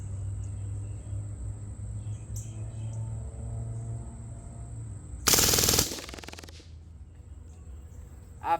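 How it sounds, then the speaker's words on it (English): A full-auto airgun fires a rapid burst of about 17 rounds, a loud, dense rattle lasting roughly half a second that breaks sharply out of a quiet, humming background. "at 17 rounds, that's a full auto burst"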